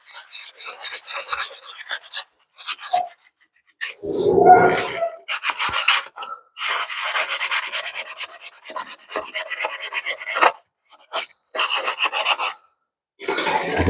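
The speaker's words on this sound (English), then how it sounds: "This is just a 328 sandpaper." Hand sanding of a surface with 328-grit sandpaper, giving bursts of dry, raspy rubbing strokes in uneven rhythm with short pauses between them, close and fairly loud.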